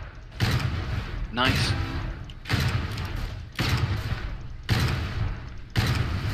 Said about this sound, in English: this guy with the pistol's gonna try and shoot you